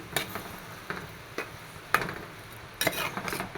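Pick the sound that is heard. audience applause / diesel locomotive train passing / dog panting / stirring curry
stirring curry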